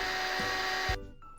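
A kitchen mixer grinder blends tender coconut, turmeric and cumin with water into a masala paste: a loud, steady whirring drone that cuts off abruptly after about a second, leaving only faint room noise.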